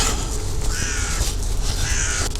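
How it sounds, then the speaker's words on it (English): Several crows caw harshly in repeated calls over a rushing outdoor background, fairly close and loud. "And then you have these crows."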